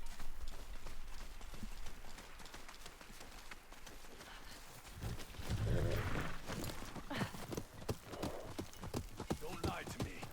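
Horse hooves from the video game Ghost of Yōtei clip-clop in a steady rhythm under a bed of ambient game sound, with characters talking over them.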